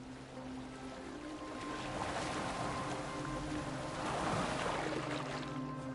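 A boat moving over open water in Assassin's Creed Valhalla, a steady wash of waves and hull noise with a faint low hum underneath, holding an even level throughout and with no voices.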